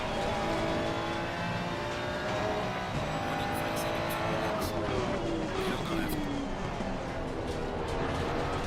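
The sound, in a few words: Ferrari car passing in a racing video game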